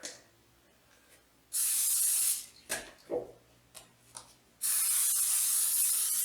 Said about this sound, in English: I'm going to spray with cooking oil.